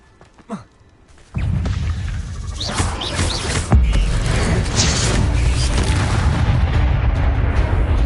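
A fire-based blasting spell goes off in the game Hogwarts Legacy, a sudden loud boom that swells into a sustained roaring rumble with crackling debris, after a brief quieter stretch at the start.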